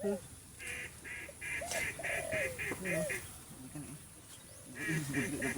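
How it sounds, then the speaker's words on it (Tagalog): Several ducks quack in short, scattered bursts at a moderate distance, alongside a rapid repeated electronic beeping and soft outdoor background noise. "Kakaibang ano talaga to, kakaibang pato."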